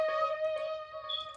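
Beat sample drenched in reverb and echo, sustained tonal layers and ringing harmonics washing together into a continuous, spacious bed of sound with no voices.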